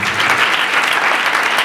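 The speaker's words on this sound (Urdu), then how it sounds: "تالی نہیں بجائیے آپ" A church congregation at a pastor's sermon claps steadily and loudly, a dense, continuous wash of applause with no voices over it.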